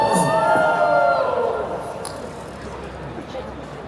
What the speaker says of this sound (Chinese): 不太习惯这种就是有一点点做作的喝彩啊